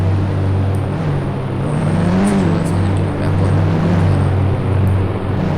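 A car drives slowly up beside a Duster inside a garage, its engine a steady near hum that swells briefly midway, with faint background voices.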